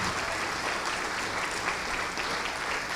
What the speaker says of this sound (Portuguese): Vamos aplaudir mais, está chegando mais.